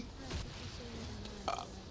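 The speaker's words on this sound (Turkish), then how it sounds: "Artık bir videoda yani geğiriyorum arkadaş." A single short burp from a man playing League of Legends, a quick low belch with a brief click after it, faint and close.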